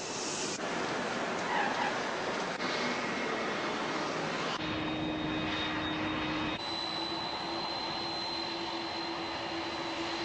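An airplane engine roars loudly and steadily throughout, a continuous broad drone with a faint tonal whine, with no speech over it.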